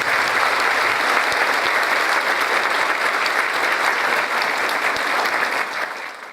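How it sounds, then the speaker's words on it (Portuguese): An audience at a talk on pain and suffering breaks into sustained, dense applause, loud and even for about six seconds before it begins to fade at the end. "uma salva de palmas para o Cristo"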